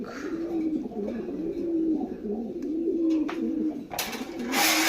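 Grey barless pigeons coo in soft, repeated low calls close by, with rustling and a couple of sharp bright noises near the end; someone talks nearby.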